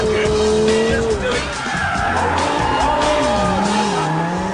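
Lamborghini Gallardo sliding sideways in a drift, its engine roaring loud and close as tires squeal and skid in long wavering shrieks, with a voice talking over it.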